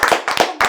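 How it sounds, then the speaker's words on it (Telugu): A few people clap in short, loud bursts up close, three quick clusters of hand claps in a casual chat setting with no talk over them. "క్లాప్స్ కొట్టండి రా"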